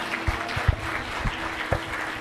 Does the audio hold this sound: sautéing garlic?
no